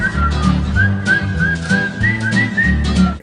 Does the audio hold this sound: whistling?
yes